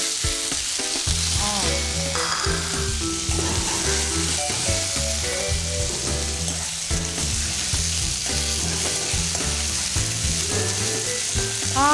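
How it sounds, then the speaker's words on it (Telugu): Chopped onions, with green chillies already in, fry in hot oil in a pan, a steady close sizzle with crackles and occasional stirring scrapes, continuous and fairly loud, with no one speaking. "సో దీంట్లోకి మనం ఇప్పుడు ఉల్లిపాయలను యాడ్ చేద్దాం"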